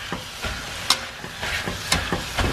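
Minced meat frying in a pan for lasagna while a masher stirs and breaks it up, giving a steady close sizzle punctuated by regular scraping knocks about every half second.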